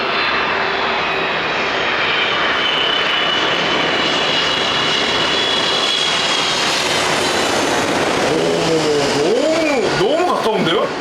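A low-flying airplane roars overhead near an airport, loud and close above a house, its engine noise building and sweeping past; people talk over it toward the end.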